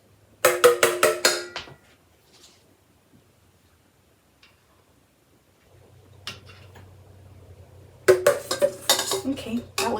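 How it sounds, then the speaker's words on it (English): A sieve spoon clinks and taps against the pot rim in two quick rattling clusters, separated by a quiet stretch of low simmering, while foam is skimmed off beef radish soup. "I'm gonna skim this foamy stuff off at the top with this little sieve spoon."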